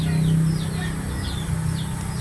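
Backyard hens and a flock of more than thirty roaming chicks give short, repeated chirping calls, several in a row, fairly close over a steady low rural background hum.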